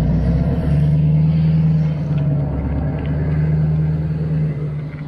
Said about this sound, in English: Now the truck's coming back.